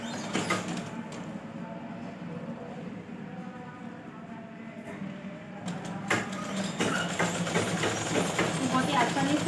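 A sewing machine runs in a steady mechanical whir while stitching a folded strip of blouse fabric, close and continuous, pausing briefly before resuming louder.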